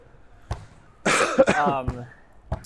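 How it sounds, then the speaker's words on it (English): A few harsh, close coughs in a short burst, with a throat-clearing quality and quiet pauses between them. "Oh, sorry for the cough."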